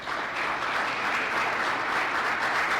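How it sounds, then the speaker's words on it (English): Steady, full applause from a seminar audience at an investment talk, a dense continuous wash of many hands clapping that holds evenly throughout without a break. "I request all of you to carry this vote of thanks with a loud applause"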